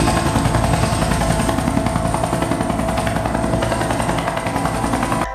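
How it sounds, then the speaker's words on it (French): A Minecraft helicopter's continuous rotor thrum and whining engine, loud and steady throughout with no voices. "Un hélicoptère est sur place."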